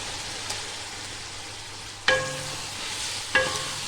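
Pieces of liver (kaleji) fry in masala in a pan, a low steady sizzle broken by two sharp clanging stirs of a metal spoon against the pan, with no talking.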